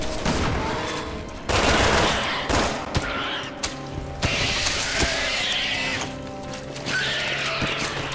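Gunfire and combat effects in the video game Resident Evil 6, with dense bursts of shots, clanks and crashes running almost continuously under a busy game soundtrack.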